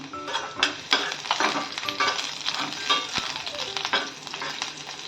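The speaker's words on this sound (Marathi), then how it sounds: "तेल गरम झाल्यावर सगळ्यात आधी यामध्ये लसूण टाकून घ्यायचा, त्यानंतर हिरवी मिरची" Garlic and green chillies fry in hot oil in a pan, a steady crackling sizzle broken by repeated scraping stirs and light clinks of the spoon against the pan.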